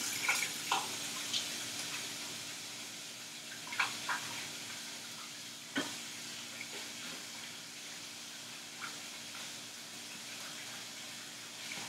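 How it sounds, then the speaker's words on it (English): Tap water runs steadily into a kitchen sink while a hand is washed during cooking, a soft continuous hiss with small splashes and clinks breaking through now and then. "Give me 1 second to wash my hand a little."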